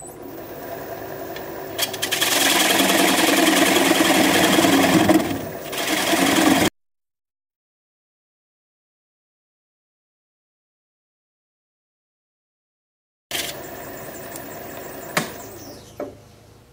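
A wood lathe spinning a bowl blank at about 500 to 600 RPM, a steady droning whir with a few light scraping knocks, stopping abruptly for several seconds of silence before resuming more quietly.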